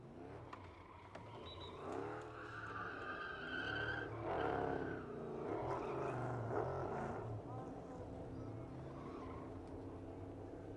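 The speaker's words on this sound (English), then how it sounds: "Hear the engine sing." A NASCAR Euro Series race car engine revs and roars at close range after a race at the Belgian Grand Prix, its pitch rising and falling in harmonic sweeps, then settles into a steady idle.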